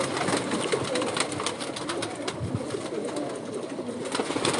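Unasi breed pigeons coo steadily at a rooftop loft, a dense, continuous low murmur of many birds under a constant broadband hiss, with no talk.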